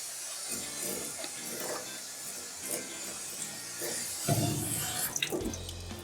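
Water runs steadily from a kitchen faucet at a dining facility during sampling, a continuous hiss with faint clinks and a louder splashing surge near the end.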